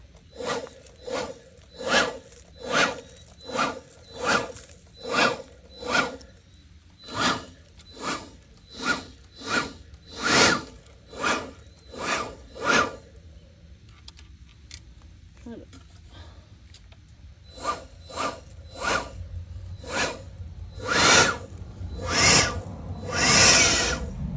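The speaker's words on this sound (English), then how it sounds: "Okay, got my little blower." A little handheld blower puffs air in a long series of short, evenly spaced bursts, pausing briefly midway before resuming stronger and closer.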